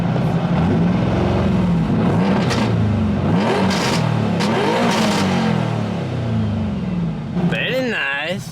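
A Nissan S15 fitted with a new exhaust resonator starts up and revs, its engine rising and falling in several loud pulls at close range while a person talks over it.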